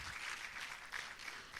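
An audience at a leadership forum in West Africa applauds to welcome guests, a soft, steady wash of many hands clapping at a distance for a short stretch.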